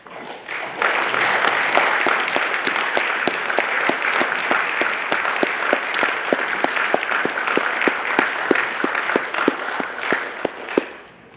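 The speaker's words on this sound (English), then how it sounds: "And I'd also like to give them a round of applause" A crowd applauds pitch teams as they come on stage at an incubator final pitch event, steady full clapping for about ten seconds before fading.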